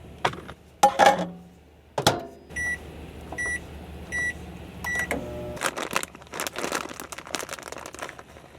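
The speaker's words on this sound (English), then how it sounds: "So really all I gotta do is microwave this taco meat." Clattering and crinkling handling noises, then a microwave's beeps sound in a short series as taco meat is heated, followed by more rustling and clicks.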